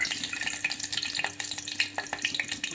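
Garlic sizzles in hot oil for a dal tempering, close by, with dense crackling and popping bursts over a steady frying hiss and no voices.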